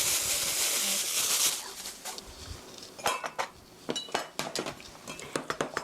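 Cabbage roll meat filling mixed with breadcrumbs in a bowl, a brief hiss at first, then a run of sharp clinks and taps of a utensil against the bowl, close and irregular.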